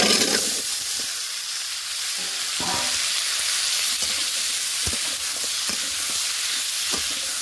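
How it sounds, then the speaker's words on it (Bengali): Potatoes and pointed gourd frying in oil in a wok, a continuous loud sizzle and hiss with scattered spatula knocks and scrapes, close up and without talk. "কড়াইয়ের মধ্যে পটল আলু দিয়ে দিয়েছি। এবার এটাকে একটু ভালো করে ভেজে নিয়ে"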